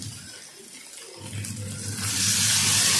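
Water pours into a crab curry masala in a cooking pot; a soft start swells into a steady, louder rushing splash that holds to the end.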